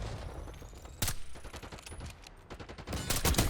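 Gunfire in the Black Ops 6 video game: bursts of automatic fire and sharp single shots crack repeatedly over a busy battle backdrop, growing louder and denser toward the end.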